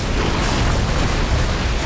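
Ice explosions going off in the video game Risk of Rain 2, a continuous loud dense rumble of blasts with booming low end and no clear gaps, lasting under two seconds.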